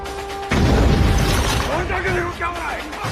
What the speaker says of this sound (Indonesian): bom yang telah ditanam Razbir meledak dengan hebat